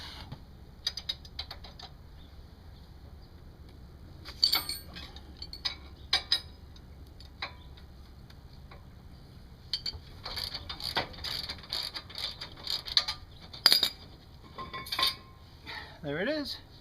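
A ratchet works loose the caliper abutment bolts on a 2002 Lincoln Town Car, with scattered bursts of quick metallic clicking separated by quiet pauses, close and fairly faint, plus the clink of metal parts.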